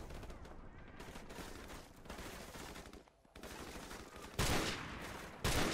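Automatic gunfire in Call of Duty 4 Remastered crackles in dense continuous volleys, pausing briefly, then resuming with louder bursts near the end.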